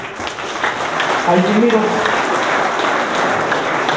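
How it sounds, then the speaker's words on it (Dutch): An audience applauds for accordion player Roosje Pluimers, a steady wash of clapping held for several seconds while a voice talks over it. "Mag ik een applaus voor Roosje Pluimers?"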